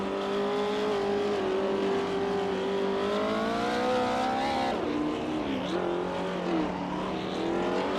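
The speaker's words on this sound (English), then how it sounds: "Bunny Soft Doom and Trash Crashton are fighting it out for 10th" Race car engines in a racing video game scream at a high, steady pitch, then drop and climb again through gear changes, loud and close, with several cars layered together and no speech over them.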